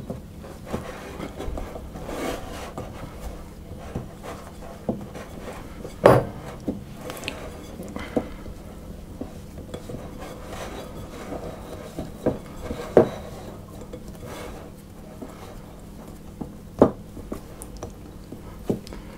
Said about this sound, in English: I'm just going to get my hand in there and mix it into